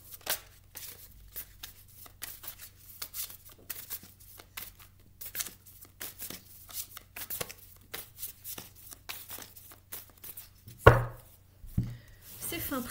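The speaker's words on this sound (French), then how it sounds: "Je mélange le jeu." A deck of tarot cards is shuffled by hand, with many quick, soft riffling and slapping bursts in an uneven rhythm, close and fairly quiet. A louder knock lands near the end.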